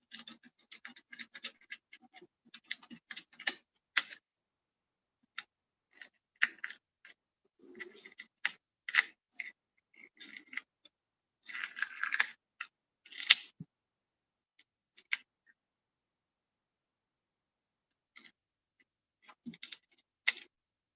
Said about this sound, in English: now we need to remove masking tape from here